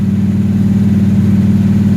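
Engine of a 1970 car fitted with a Holley 850 carburetor, a loud, close, steady low drone with a throbbing pulse, the engine held at constant revs.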